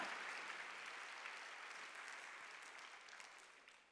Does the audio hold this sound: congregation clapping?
yes